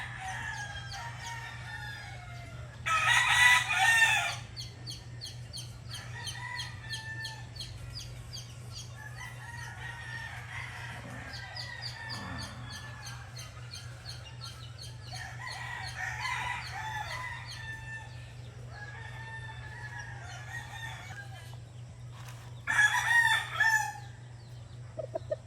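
Allen Roundhead gamecocks crow repeatedly in a farmyard, several loud close crows rising at the start and near the end, with softer distant crowing and clucking in between over a steady low hum.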